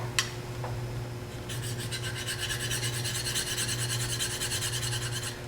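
A skew chisel is honed on a fine 600 grit red hone with a rapid run of short, even rasping strokes, close and steady, under a constant low background hum.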